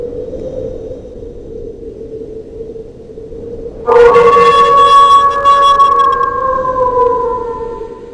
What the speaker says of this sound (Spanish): tras el misterioso aullido